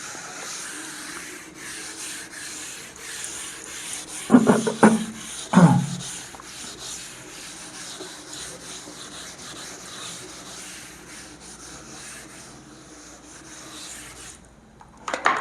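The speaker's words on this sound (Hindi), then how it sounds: "इस पॉइंट्स को हम रब करते हैं" Writing rubbed out on a board, a long continuous scrubbing rub at moderate level, broken by a couple of sharp knocks partway through.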